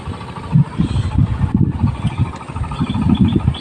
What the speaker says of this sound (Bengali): ওখানে জমিতে পাওয়ার টিলার দিয়ে চাষ দিচ্ছে, ধান লাগাবে।